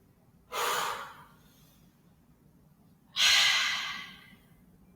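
Two heavy, forceful breaths, an inhale and then an exhale, taken during a yoga barre HIIT workout with scissor kicks. They are close and loud, separated by a quiet pause, and no one speaks.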